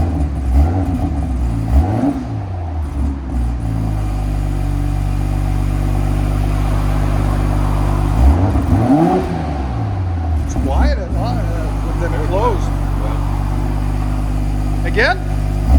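A 2019 BMW M340i 3.0L six-cylinder fitted with an aftermarket cat-back exhaust rumbles loudly at idle, then revs up and falls back in a couple of rising and falling sweeps, with people talking over it.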